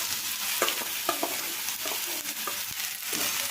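Bottle gourd in hot oil with asafoetida, curry leaves and chilli: steady close hiss of frying throughout, with light scraping and stirring clinks scattered over it and no talk.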